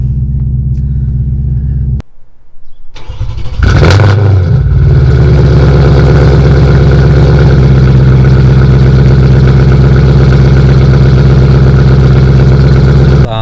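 A car fitted with a VF Engineering supercharger starts with a brief crank, then settles into a loud, steady, deep idle that rumbles on continuously up close.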